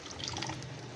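Vinegar pours in a brief, continuous liquid stream, splashing softly for about a second.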